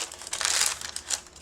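Coffee-stained tissue paper crinkles and crumples as it is handled, a few close, soft rustling bursts with the loudest swell in the middle, no talking.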